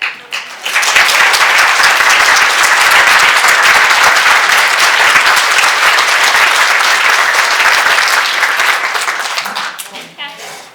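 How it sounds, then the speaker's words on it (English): At a winter conference talk, an audience breaks into loud applause for the speaker, a dense, sustained roar of clapping that swells up quickly, holds for several seconds and then tapers off. "I'd like a round of applause for Jess"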